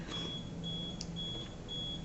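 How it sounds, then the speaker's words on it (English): A laboratory fume hood alarm gives a steady, repeating electronic beep in short high tones separated by brief gaps, moderately loud over a low room hum. "that hood alarm is going off again"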